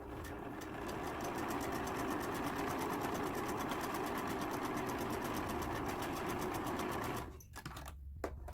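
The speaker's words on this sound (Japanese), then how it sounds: "残りはまず、横同士ピースを縫い合わせていきます。" Sewing machine stitching fabric pieces together side by side, a fast steady mechanical whir with regular needle chatter running loud and close for several seconds before stopping abruptly.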